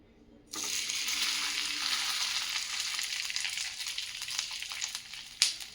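Bread slices for Manchurian toast, coated side down, sizzle in a pan over medium heat, a sudden steady frying hiss that starts after a brief quiet and holds, with one sharper crackle near the end.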